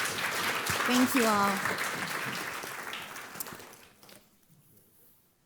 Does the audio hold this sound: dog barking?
no